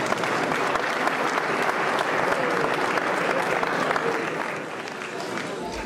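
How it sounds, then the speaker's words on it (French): Steady applause from a sizable crowd at a mayor's New Year address in Soustons, dense and sustained, easing slightly toward the end. "Je crois qu'on peut l'applaudir"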